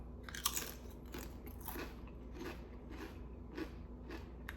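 Salt and vinegar potato chips crunched and chewed up close, a run of crisp crackling bites repeating through the clip with no talk.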